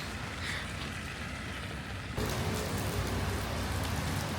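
Rain falls steadily on a city street in Seoul, a dense, even patter and wash that grows louder midway, with no voices.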